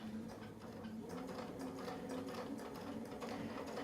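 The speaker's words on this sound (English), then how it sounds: "And this one I will sew down" A sewing machine quilts with a Westalee brick template, a quiet, steady rapid mechanical whirring and ticking of the needle running without pause.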